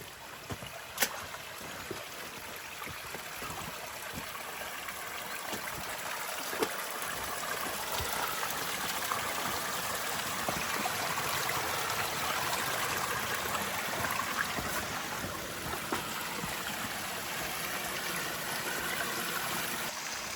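Storm runoff rushes down a stream into a homemade pond, a continuous broadband wash of flowing water with small splashes and trickles, steady and fairly close throughout.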